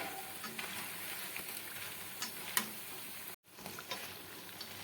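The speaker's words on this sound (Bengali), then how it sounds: "এখন মিডিয়াম টু হাই ফ্লেমে দিয়ে বড়াগুলোকে উল্টে পাল্টে আমি ভেজে নিচ্ছি এইভাবে" Lentil fritters (doi phuluri) sizzle steadily in hot oil over a medium-high flame, with soft scraping and clicks as they are turned, heard close and fairly quiet, with one sharp tick and a momentary dropout.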